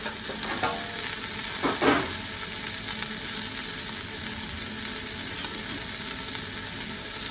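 Carrot, celery, onion, tomato and garlic sweat in a pan with a steady, close sizzle and a few stirring scrapes near the start, with no voices.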